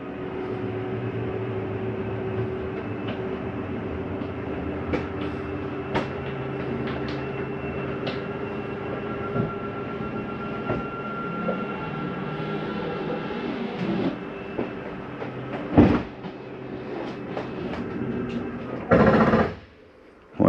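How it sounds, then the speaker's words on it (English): Slide-out mechanism on a 2021 Mesa Ridge 355MBH RV, moving the dinette slide: a steady mechanical motor drone runs throughout, broken near the end by a sharp clunk and a brief loud burst as the slide stops at its limit. "That is the slide mechanism telling itself not to come in any further."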